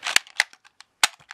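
A Power Rangers Ninja Steel Ninja Blaster toy gives a few sharp cap-gun-like snaps and clicks in quick, irregular succession, close and without talk.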